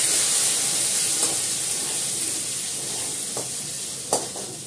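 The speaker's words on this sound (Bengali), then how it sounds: "আমি এটাতে দেবো জিরে ফোড়ন, হিং ফোড়ন। এবার আলুটা দেবো এর মধ্যে।" Potatoes frying in hot oil with a cumin and asafoetida tempering give a steady, soft sizzling hiss, with a few faint clinks and stirring sounds.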